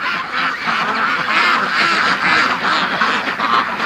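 Muscovy ducks crowd together in a pen, a dense, continuous chorus of raspy quacks and honks, loud and close with no pauses and no talking.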